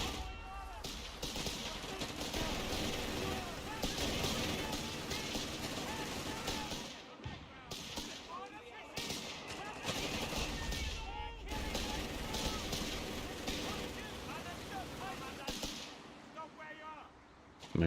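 Machine guns and artillery rattle through a Company of Heroes 3 battle, dense bursts of gunfire and crashing impacts filling the stretch with a few brief lulls.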